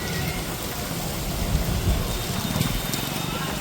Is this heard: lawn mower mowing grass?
no